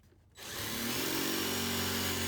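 A power drill spins up into a steady, loud, continuous whir after a short quiet moment, driving a screw into a 2x4 and holding a constant pitch.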